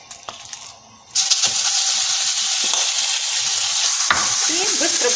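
Minced chicken and beef hit a hot pan and burst into a loud, steady sizzle of frying that holds on without letting up, close to the microphone, with a few light stirring scrapes.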